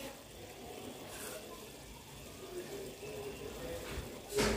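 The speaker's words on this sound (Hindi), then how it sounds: "ये थोड़ा सा और पानी ऐड कर रहे हैं कि दाल जरा अच्छे से गल जाए" Water is poured into a pot of simmering dal mash, a steady broadband splashing wash that runs throughout at moderate level and swells briefly louder near the end.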